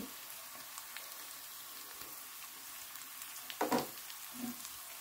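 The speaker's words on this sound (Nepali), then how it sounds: "मसला भुट्छु एकछिन" Spices sizzle softly with browned onion in a pan for a Nepali salmon fish head curry, a faint steady crackle with a short clatter of stirring near the end.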